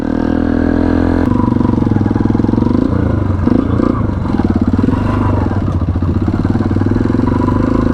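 A Honda CB500X motorcycle crosses a road, its engine running loud and close with a steady throb, a shift in tone after a second and some clattering as it rides on over the surface.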